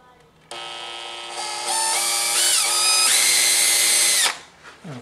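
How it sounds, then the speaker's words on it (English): A power drill pre-drills a hole in a slab door, whining as it spins up in steps, holding a high pitch for about four seconds, then winding down. It is loud and close with no talking. "pre-drill in this one hole here"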